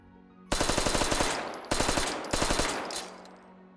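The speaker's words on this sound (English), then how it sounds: "That's the Owen gun with a little few modifications by me" An Owen submachine gun fires in the VR shooter Hot Dogs, Horseshoes & Hand Grenades, in three loud, close, rapid bursts of rattling shots separated by brief pauses, with a metallic ring trailing after.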